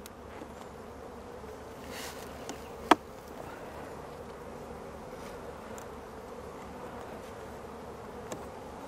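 Honey bees swarm a healthy, open hive during a spring inspection, making a faint, steady, low buzz that fills the whole stretch, broken by a single sharp click near the middle.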